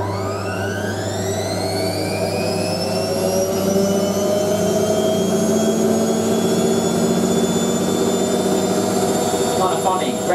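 A Hotpoint 9530 Electronic 1000 Plus washing machine spinning a load of bathrobes and towels, a loud continuous whine climbing steadily in pitch over a deep drum rumble, close and sustained throughout.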